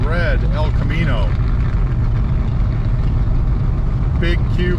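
A 1970 Chevelle SS 454 big-block V8 on race gas and slicks rumbles loudly and steadily throughout, driving on the way to a high school car show, with a person talking over it briefly.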